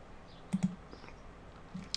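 A computer mouse gives a few quick, faint clicks close by, including a near double click, with a further soft click near the end.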